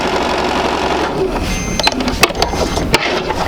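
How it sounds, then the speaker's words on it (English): A sewing machine stitches a quarter-inch seam on quilting fabric, a steady close whirring hum with quick rhythmic needle clicks that grow sharper toward the end, heard without speech. "I'll just go ahead and sew my 1/4 inch seam."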